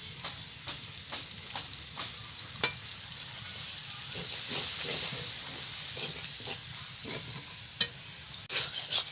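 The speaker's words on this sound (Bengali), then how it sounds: "মশলাটাকে আমি ভালো করে কষিয়ে নেব" Masala with dried chilli paste and ground tomato sizzling in a pan for chicken curry, a steady moderate hiss with regular spatula taps and scrapes against the pan, no talking.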